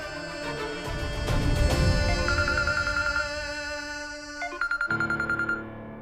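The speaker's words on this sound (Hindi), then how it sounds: "गहना का फोन" A phone rings with an incoming call from Gehna, a melodic electronic ringtone over a soft musical background. It grows louder partway through and ends with a run of short, repeated beeping tones.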